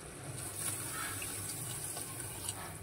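Boiled hot water is poured into a pot of rice for vegetable pulao, making a steady faint splashing gush with no talk over it.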